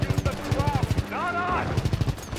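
Rapid machine gun bursts in Call of Duty WW2 gameplay, repeated rhythmic volleys with a short pause mid-clip, loud and close alongside in-game voices and effects.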